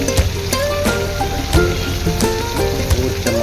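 Raw mango sabzi sizzling in a pan with turmeric and salt, a steady close crackle and hiss of frying with small pops, running continuously and alone.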